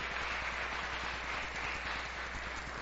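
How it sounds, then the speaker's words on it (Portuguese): Applause from a church congregation during an evening service, a steady even wash of many hands clapping at moderate volume with a low hum underneath, no voices. "Você pode dar uma salva de palmas"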